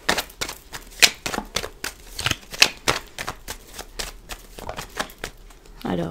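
Lenormand fortune-telling cards being shuffled by hand in a quiet room, a close run of crisp, papery riffles and slaps in uneven bursts, alone with no talking.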